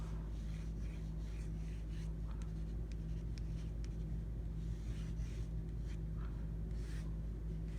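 A pen or pencil scratches out a small mushroom drawing on paper, with soft short strokes over a steady low hum of background noise.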